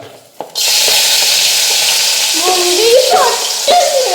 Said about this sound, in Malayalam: ഇനി നമ്മുടെ മുന്തിരി ഇട്ട് കൊടുക്കുക. മുന്തിരി മുളക് വറുത്തെടുക്കാം.